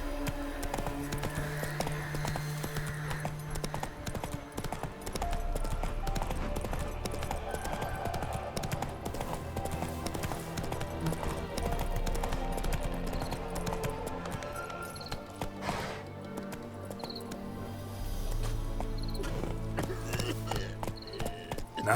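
Roach, the horse in The Witcher 3 game, clip-clops along in a steady galloping rhythm under game music and ambience, hoofbeats moderately close and continuous.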